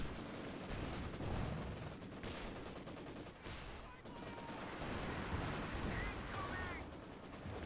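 Anti-tank guns firing on a Panzer IV in a World War II real-time strategy game, with booming shots and a dense battle mix of gunfire and explosions at moderate level throughout.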